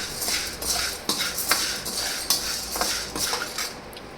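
Sabudana (sago pearls) being dry-roasted and stirred in a pan, giving repeated close metallic scrapes and clinks of a spoon against the pan in an irregular rhythm, with no talk.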